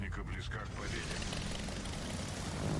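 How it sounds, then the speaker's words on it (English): Rocket-armed attack planes sweep in during a World of Warships naval battle, a steady broadband propeller and engine roar with rumbling low end, close and loud throughout, with game speech mixed underneath. "Let's see if we can finish him off with the rocket planes."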